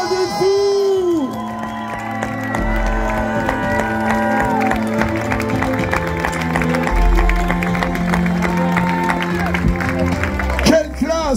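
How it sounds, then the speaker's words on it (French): A stadium crowd at La Redoute applauds and cheers loudly and steadily for a women's Grand Raid de la Réunion finisher, with whoops and shouts over a dense wall of clapping. An announcer talks over the crowd throughout. "je vous demande de l'applaudir bien fort encore, s'il vous plaît, le stade de la Redoute"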